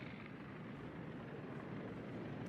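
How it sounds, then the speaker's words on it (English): Torpedo bomber planes return overhead in World of Warships, the naval combat video game, as a steady, low droning engine rumble that holds at an even level throughout, with no talk. "No, torpedo bombers coming back."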